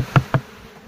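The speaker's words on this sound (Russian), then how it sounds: "Стряхиваю пчел." Honey bees are shaken off a hive frame in an apiery, giving two short, sharp buzzing bursts close to the microphone, then a low, faint hum.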